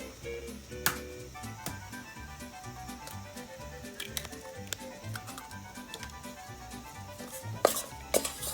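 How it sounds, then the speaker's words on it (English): A utensil stirs an egg into hot churro dough in a pot. Steady, rhythmic scraping and clinking continue throughout, with a few sharper metallic knocks against the pan and no talking. "You're mixing 1 egg."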